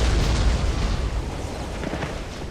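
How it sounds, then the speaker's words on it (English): Grenade launchers fire in a Warhammer 40k trench battle between Chaos and Krieg forces, a heavy rolling series of booming blasts, loud and dense, fading slightly toward the end. "Look at that, grenade launchers returning fire."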